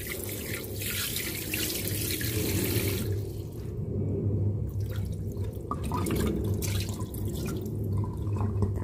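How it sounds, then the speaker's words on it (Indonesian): Tap water runs steadily into a sink as meat is rinsed after cooking for bakuteh, a continuous splashing rush with brief shifts where the flow meets the meat and drips, close and unaccompanied by talk. "Kita bilas ya guys."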